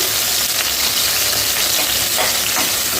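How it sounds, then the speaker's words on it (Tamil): Pieces of bitter gourd fry in hot oil, making a loud, dense, continuous crackling hiss that holds steady throughout. "எண்ணெய் பாவக்காய் குழம்புக்கு பாவக்காவை நம்ம பொரிச்சு எடுத்துக்கிறோம்"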